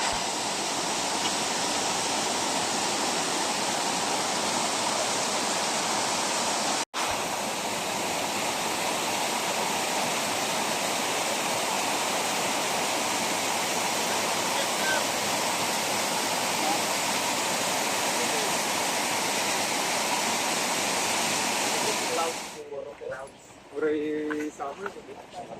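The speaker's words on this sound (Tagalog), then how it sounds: "welcome everyone to Naumag Waterfalls." Naumag Waterfalls in Aguinaldo, Ifugao, pour with a loud, constant roaring rush of water close by, steady throughout, before it fades into quieter sounds near the end.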